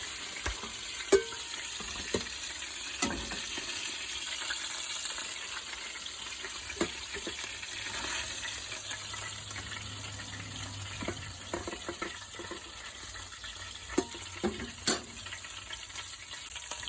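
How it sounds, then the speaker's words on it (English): Cooked beef patties lifted out of a hot frying pan, with a steady, quiet sizzle of fat running throughout and a few sharp taps of a utensil against the pan. "Now I'm going to remove them from the pan and drain them"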